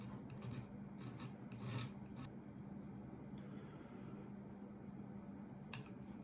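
A file rasps a metal burr off a scratched RockShox fork stanchion, a few short, quiet scraping strokes early on, then near-silence with a faint click.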